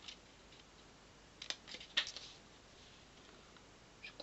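A few faint, crisp scissor snips through paper, short bursts spaced apart in a quiet room.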